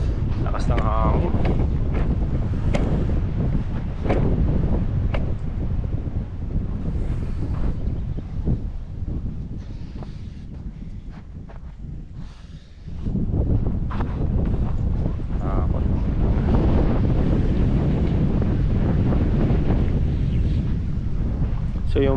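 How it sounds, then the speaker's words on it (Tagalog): Strong wind buffets the microphone on a mountain peak, roaring in loud gusts that ease briefly midway and then surge back, with a voice talking at times beneath the rush. "Lakas ng hangin."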